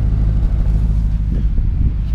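A deep, continuous exhaust rumble from a 4.2 V8 Audi A6 with a cut-off valve exhaust, loud and steady with low throbbing pulses, idling rather than revving.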